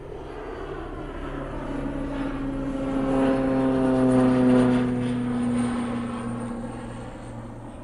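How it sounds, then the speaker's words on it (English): A propeller aeroplane passes overhead on a walk near Clifford Road toward Goondi, its droning engine swelling steadily to a peak and then fading away, with a slight pitch drop as it moves off. "Aeroplane."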